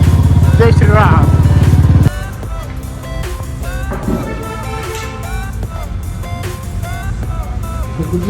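A motorbike is ridden on the road with a steady engine drone and rushing wind, loudest at the start and continuing under someone talking.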